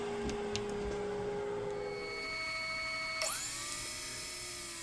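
A router spinning at high speed whines steadily as curved walnut cabinet pieces are guided into the bit against a pin, its pitch shifting as the motor spins up near the end.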